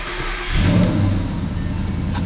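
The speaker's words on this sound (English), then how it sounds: "Now I'm going to start the car, see what happens." A 2011 Ford Mustang starts up in cold weather at about 15 degrees, the engine catching after a brief crank and settling into a steady, loud idle that holds through to the end.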